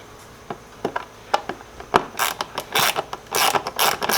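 A hand ratchet loosening a Torx screw on the fuel filler lid of an Aston Martin V8 Vantage, with close, repeated clicking in short spurts, some louder and rasping.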